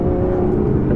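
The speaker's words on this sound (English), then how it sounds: "you can really hear that 177 derived exhaust system crackling" Aston Martin Vanquish with a 177-derived exhaust system under way, a loud close steady engine drone and road roar filling the cabin, without distinct crackle pops.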